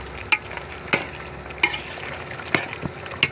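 Pulao cooking in oil with yogurt and spices, a steady close sizzle broken by several sharp clinks and scrapes of a spoon stirring the pot.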